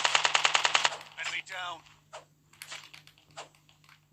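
Rapid automatic gunfire in Call of Duty Mobile Battle Royale, a burst of evenly spaced shots followed by scattered single shots and game effects, with someone speaking over parts of it.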